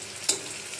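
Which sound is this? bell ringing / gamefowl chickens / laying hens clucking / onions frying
onions frying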